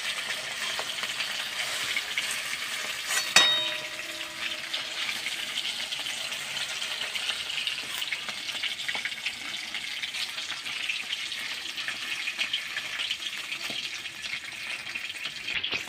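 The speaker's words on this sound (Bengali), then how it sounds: "এরকমভাবে আমি প্রত্যেকটা মাছকেই বেসনে ডুবিয়ে ভেজে নিচ্ছি।" Soft lote fish coated in gram-flour batter fry in oil with a steady, moderate hiss and bubbling that runs continuously, broken once by a sharp clink early on.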